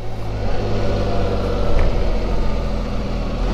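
A 2024 Can-Am Spyder RT Limited three-wheel motorcycle engine runs steadily while riding, a continuous low rumble with wind noise staying close and even throughout.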